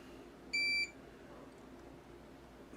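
One short, clear electronic beep sounds, probably from a continuity tester touching a circuit board's test points, and then a quiet room tone follows.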